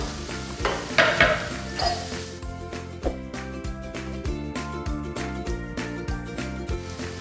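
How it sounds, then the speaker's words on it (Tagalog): Sardines with onion and chili are stirred in a frying pan, giving a steady sizzle under repeated scraping and clinking of a utensil against the pan, close and moderately loud, with no talking. "Paghaluin na natin itong isda at saka yung sibuyas at sili."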